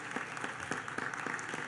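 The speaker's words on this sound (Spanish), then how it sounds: "Un aplauso, compañeros." Applause fills a legislative assembly session hall, a steady wash of many hands clapping with a few sharper claps poking through, dense and continuous throughout.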